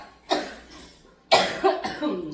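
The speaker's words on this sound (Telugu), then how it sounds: "ఎక్కువసేపు మాట్లాడితే ఇట్లా దగ్గు వస్తుంది" Two or three sharp coughs close to the microphone, separated by a brief pause, with no speech.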